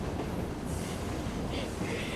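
Train rolling on rails in the Assassin's Creed Syndicate video game, a continuous dense rumble and clatter of wheels with airy high hiss, steady and fairly loud throughout.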